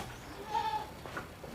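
A single short bleat from a Javanese goat on a goat-breeding farm, fairly quiet and nasal, rising briefly over a low background hum with no talking.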